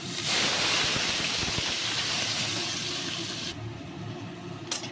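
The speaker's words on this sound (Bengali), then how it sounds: "সরষে লঙ্কাটা আমার ভাজা হয়ে গেছে এবার আমি থোরটা দিয়ে নিচ্ছি" Banana stem dropped into hot oil already spitting with mustard seeds and chilli sets off a loud, broad hissing sizzle. The sizzle eases to a quieter fry after a few seconds.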